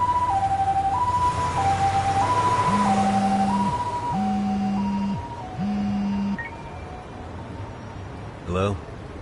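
Ambulance siren from the video game Lost Judgment, a loud two-tone wail alternating steadily, joined midway by a lower repeating tone and fading toward the end, with a brief rasping burst near the close.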